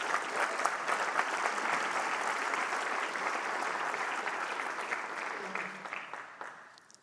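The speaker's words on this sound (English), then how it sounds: "Please give another round of applause for our newly elected officers." Sustained audience applause at a National Honor Society induction ceremony for newly elected officers, a dense wash of clapping hands that holds steady for several seconds and then tapers off toward the end.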